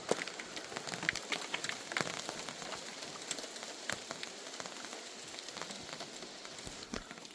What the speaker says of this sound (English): this one lone cloud started raining a little